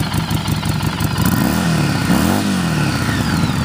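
A 2015 Harley-Davidson Street 500 XG500 motorcycle with a blacked-out engine and just over 3,000 miles idles with a loud, close, lumpy throb, then revs up and falls back once before settling into a steady idle.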